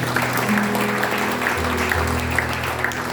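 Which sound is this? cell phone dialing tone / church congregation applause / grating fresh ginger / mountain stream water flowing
church congregation applause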